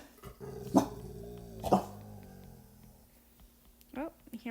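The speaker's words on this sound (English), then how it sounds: "Oh, you hear my dogs?" Several pet dogs bark in separate sharp bursts, a few seconds apart and a little distant, heard indoors over a low background with a faint hum.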